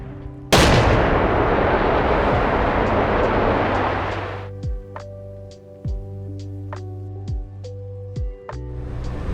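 Missile launches in a combat video game: a loud, sustained roaring rush of launch and flight noise for several seconds, followed by a series of sharp, evenly spaced thuds and impacts over a steady droning engine hum, with no talk.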